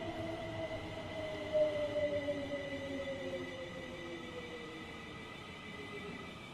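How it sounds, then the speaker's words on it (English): A Thameslink electric train moving through a station in a train simulator game, a steady rolling rumble with a high whining motor tone that slowly falls in pitch, fairly quiet and with no voices. "Thameslink service coming in. Or leaving."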